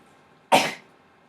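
A single abrupt sneeze bursts out of a quiet room, loud and breathy, dying away within a quarter second.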